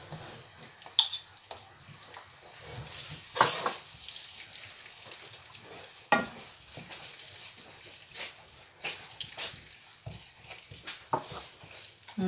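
Young onions fry in a pan while sweet potato leaves are sautéed: a steady soft sizzle runs throughout, broken by occasional sharper stirring scrapes and spatters, close by.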